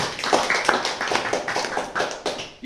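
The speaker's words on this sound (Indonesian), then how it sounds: "tepuk tangan bagi Bapak Yahweh." Applause from a church congregation during a service, a few hands clapping in loose, uneven bursts that sound fairly close and moderately loud, with no voices over it.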